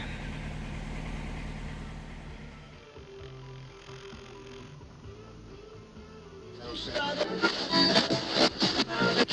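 A farm machine's engine, a header-equipped harvester, warms up and idles with a steady low rumble that dips midway, then grows louder and rougher near the end with other noise.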